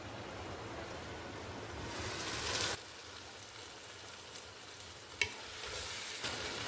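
Tomatoes and onions frying in a covered pan, a steady loud sizzle for the first few seconds that drops to a softer hiss, with a brief stir or clatter near the end.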